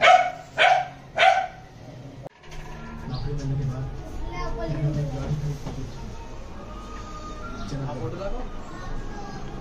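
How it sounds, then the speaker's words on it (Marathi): Three loud, close barks from a female dog in quick succession open the clip, followed by people talking over a busy village background. "चावायचं नाही, कुत्ती आहे होय."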